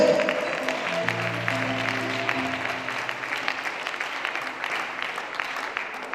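A church congregation claps for God in steady, dense applause mixed with sustained organ or keyboard chords, moderately loud and filling the room, with no clear speech over it.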